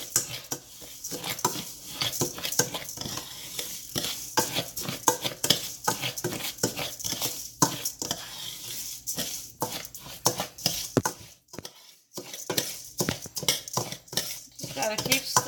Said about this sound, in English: Just got to keep stirring it.